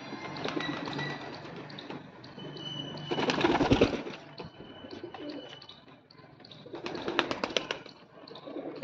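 A caged pigeon coos in low, throaty bursts, with a brief flutter of wings midway; nearby and moderately loud, with no voices.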